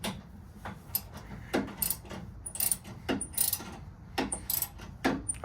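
Bolts are loosened on a gutter machine being switched from 5-inch to 6-inch, giving sharp metallic ratcheting clicks and clanks in irregular bursts, close and moderately loud, with no voices.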